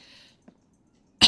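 A person recovering from bronchitis gives a single short, sharp cough at the end, preceded by a faint hiss and a tiny click in otherwise quiet surroundings.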